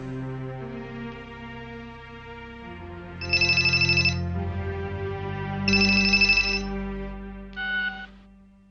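A telephone rings in three short electronic bursts, bright and fairly loud, over a soft sustained musical background in an Indian television drama scene.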